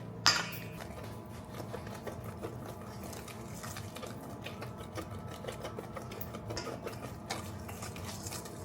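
Brownie batter being stirred in a bowl, a soft steady scraping and clinking of a utensil against the bowl, faint and continuous with a sharper tap at the start.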